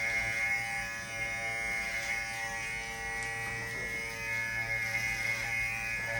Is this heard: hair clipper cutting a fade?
yes